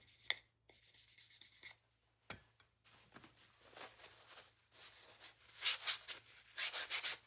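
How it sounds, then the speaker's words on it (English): A wooden snowman craft piece is sanded by hand. Soft, close rasping strokes come in short irregular bursts, quiet throughout, with no talking. "this side was not sanded good"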